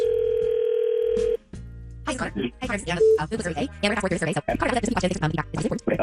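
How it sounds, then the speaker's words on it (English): A steady telephone dial tone sounds for over a second as a radio station places an on-air call, then cuts off and is followed by talking. "Let's make the phone call right now on KDWB."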